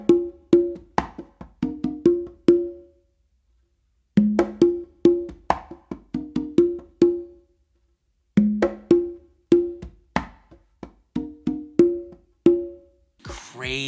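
Conga playing a funky melody pattern, crisp open tones mixed with soft ghost notes in three repeated phrases separated by short pauses, close and solo.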